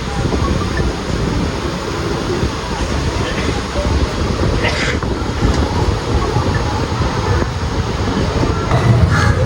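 The Ernad Express passenger train rolls along the rails in rain with a loud, continuous broadband rumble and rattle, steady throughout with slight swells toward the end.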